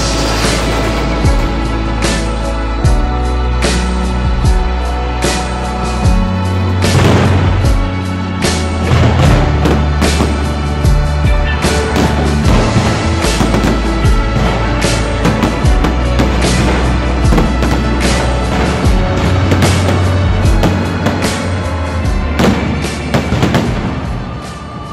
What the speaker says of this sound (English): Those fireworks were immense.